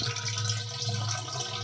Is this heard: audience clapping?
no